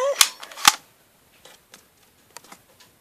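A toy cap gun fires two sharp, loud pops in quick succession, followed by a few faint clicks and small taps, close and with no talk.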